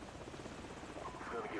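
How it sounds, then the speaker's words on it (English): An enemy helicopter in the Call of Duty 4 video game gives a low, steady rotor rumble beneath talking, in a very brief stretch. "There's a helicopter I can hear."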